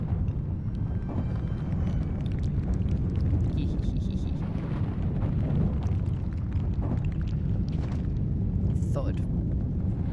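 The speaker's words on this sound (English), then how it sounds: "I did not realize that earthquake lasted that long." A deep earthquake rumble in the video game Dragon Age: Origins rolls on as a continuous, heavy low roar for the whole stretch, with scattered faint crackles and thuds layered over it.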